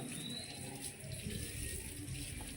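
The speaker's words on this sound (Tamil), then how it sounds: "தண்ணி சவுண்டு கேட்கும்னு நினைக்கிறேன்." Water runs steadily from a tap, a faint continuous gushing wash with no voices.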